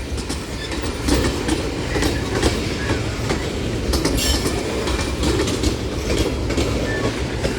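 NOPB 2000 train rolling southbound through New Orleans, a steady loud rumble of railcars with clickety-clack wheel beats and occasional squeals, continuous and close for the whole stretch.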